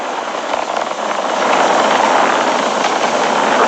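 A SpaceX Falcon 9 rocket climbs during launch, its engines producing a dense, continuous broadband roar that swells slightly after the first second and holds loud and steady.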